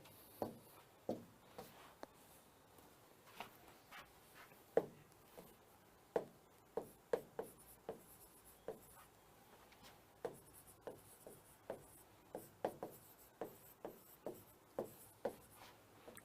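A pen writes sentences on paper, a steady series of short scratchy strokes and taps in an irregular rhythm, close and fairly quiet, with no talking.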